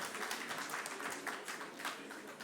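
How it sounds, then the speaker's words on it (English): A round of applause at an Africa Day signing ceremony, fairly soft and distant-sounding, a steady patter of clapping hands running throughout. "Yes, a round of applause."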